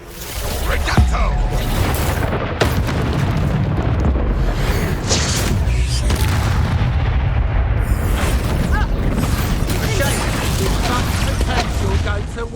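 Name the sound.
Reducto blasting spell in the video game Hogwarts Legacy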